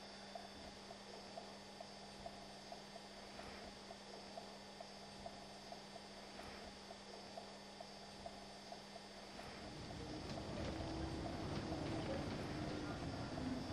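Inside a bus, a steady low hum and engine drone runs beneath faint rattles and occasional soft knocks, rising into a louder rumble near the end as the vehicle moves off.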